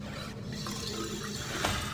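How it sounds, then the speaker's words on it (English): Flowing water with a phasing effect in the video game Riven, a steady, continuous wash of running liquid heard alone at moderate level with no break. "Listen to the flanging water."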